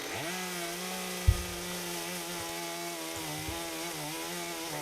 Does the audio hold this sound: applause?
no